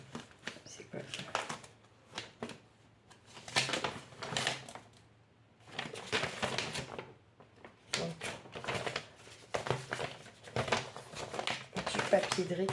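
Recycled paper and scraps are rustled, crinkled and sorted by hand in a workshop in repeated bursts of crackling handling, with a person talking intermittently throughout.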